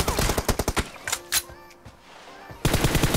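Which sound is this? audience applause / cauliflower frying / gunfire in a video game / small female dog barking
gunfire in a video game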